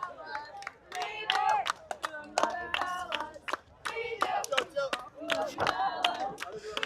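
Teammates on the sideline of a college ultimate regionals match cheering and clapping, bursts of hand claps and shouts from a nearby group, irregular and lively throughout.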